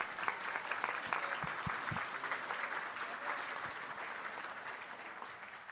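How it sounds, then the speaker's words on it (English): A conference crowd at a National Native Media Conference opening ceremony keeps up steady, enthusiastic applause for the performers Hawk River, with a few sharper claps standing out early on. "Let's give another round of applause for Hawk River."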